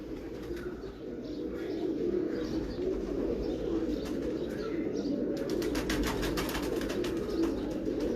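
Sialkoti pigeons coo softly in a low, continuous murmur, several birds overlapping at moderate distance, with faint rustling and light tapping in the background.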